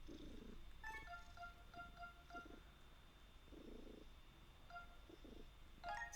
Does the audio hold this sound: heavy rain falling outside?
no